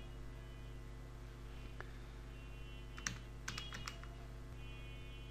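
Typing on a computer keyboard during a Microsoft Word lesson, a short quiet cluster of key clicks over a constant low electrical hum, with a single faint tap before it.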